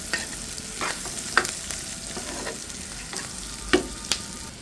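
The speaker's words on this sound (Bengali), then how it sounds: "এই যে মরিচটা একটু হালকা ভেজে নিলে খুব সুন্দর একটা ফ্লেভার আসবে" Green chilies fry lightly in hot oil with a continuous close sizzle, broken by several sharp spatula scrapes and knocks against the pan.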